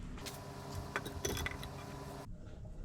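Metallic clanks and a short ratcheting clatter as a crankshaft is handled and set into a 25 HP engine during a 1952 barn door ambulance rebuild, close up in a workshop, then a quieter room tone.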